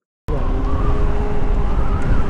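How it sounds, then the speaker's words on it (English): Spark Javelin 8 kW electric motorbike riding on the road, a sudden onset of steady wind and road rumble with a faint whining motor tone gliding slightly in pitch, loud and close throughout. "take it on the road and see just what this 8 kilowatt motor can do"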